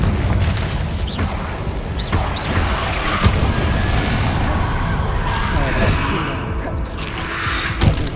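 Confringo spell explosions in the Hogwarts Legacy video game, booming blasts over a dense rumbling battle mix, with several sharper impacts punctuating a loud, continuous wash of game sound.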